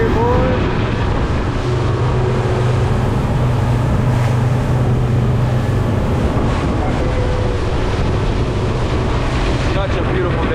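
A steady engine on a 2022 Sea Fox 268 Commander boat drones beneath rushing wind buffeting the microphone, with water noise throughout and no pauses.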